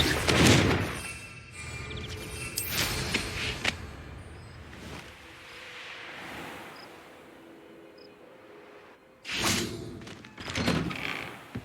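A Confringo fire spell from Hogwarts Legacy bursts in a heavy thudding blast at the start, followed by further crashing impacts, a quieter rumbling stretch, then another loud burst near the end.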